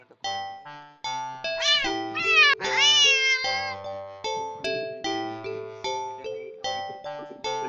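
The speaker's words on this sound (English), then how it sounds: "The cat meows sharply at you and dances off around the corner." A cat gives several sharp, rising meows, one drawn out and wavering, over a steady run of repeated bell-like chiming notes that carries on after the cries stop.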